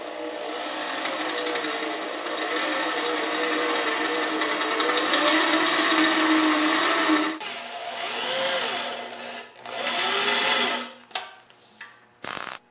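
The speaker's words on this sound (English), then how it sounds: "for these holes I'm using a 1/4 inch drill bit" A drill with a 1/4 inch bit bores holes while a welding cart is being built, giving a loud, sustained whine for about seven seconds, then several shorter bursts separated by stops.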